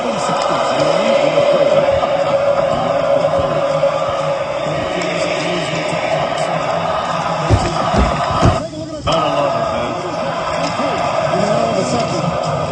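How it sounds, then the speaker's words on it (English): A dense crowd roars and chants through an NHL hockey game between the Philadelphia Flyers and Edmonton Oilers, a loud sustained wash of noise with a few sharp thumps and bangs near the end. "Listen to the crowd."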